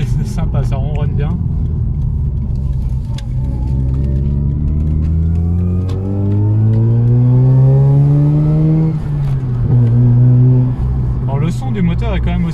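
A Mazda RX-8's rotary engine is revved up in a long smooth climb and then let fall, loud and close, its buzzing tone steady without piston-like pulsing. Brief voices are heard at the start and end.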